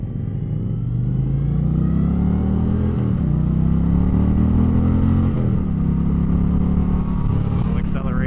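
A 2025 Indian Chieftain Powerplus Dark Horse motorcycle pulls hard, its loud engine note rising steadily as it accelerates with wind rush, heard from the rider's position.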